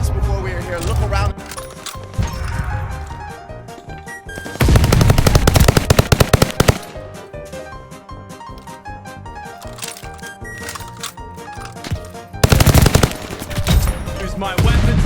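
Bursts of rapid automatic fire from the Vanguard welding gun in a video game, loud and close, come in a few long volleys with quieter gaps between them, while a player talks over the shooting.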